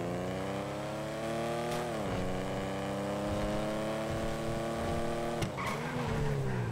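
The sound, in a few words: car driving in video game GTA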